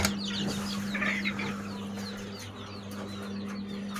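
Busy coop chatter of quails, with repeated high chirps and calls over a steady low hum, continuous and fairly close.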